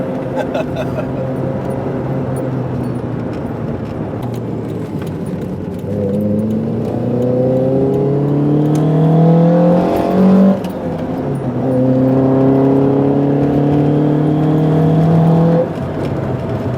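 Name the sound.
car engine revving, turbo coming on boost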